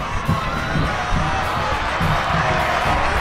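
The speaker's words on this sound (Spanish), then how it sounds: "Aplaudiendo Sportivo a los pibes." Spectators at a youth football derby cheer and clap after a goal, producing a continuous loud crowd roar with scattered shouts and whoops from nearby voices.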